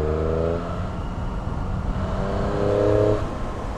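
Triumph Street Triple 765R motorcycle engine pulling from low revs in sixth gear, a steady loud drone that rises in pitch toward the end as it accelerates, heard close with no talk.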